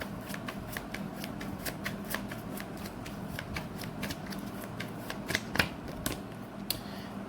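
Tarot cards are shuffled in a steady stream of crisp riffling clicks and flutters, close and fairly quiet, with a few sharper snaps near the end and no talking.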